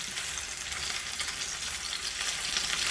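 Chicken pieces fry in a pan of hot oil for a keto meal, giving a steady, dense crackling sizzle that stays even and fairly quiet throughout, with no voices.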